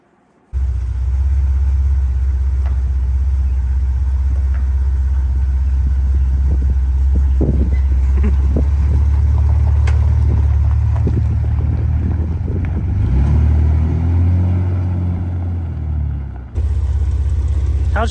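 A Jeep LJ fitted with new Prorock 60 axles runs with its engine rumbling loud and close, a steady low drone with wind buffeting the microphone, briefly dipping before picking up again.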